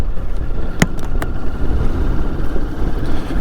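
A 2022 Moto Morini X-CAPE 649 motorcycle is ridden on a breezy day, with a steady low engine rumble and wind buffeting throughout and a couple of brief clicks.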